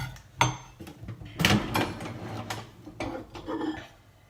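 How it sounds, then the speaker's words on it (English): A butter knife sawing through an olive ciabatta loaf in a sparse Airbnb kitchen: irregular scraping, crunching strokes with a few sharper knocks against the surface, close and moderately loud. "I'm going to use the butter knife to cut it"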